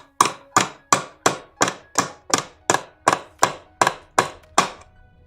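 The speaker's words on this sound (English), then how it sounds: "Then I got my faithful hammer here." A faithful hammer strikes drywall in a steady run of about eleven sharp, evenly spaced blows, each with a quick decay, close and loud with no talking, during work to remove a skylight and finish the inside.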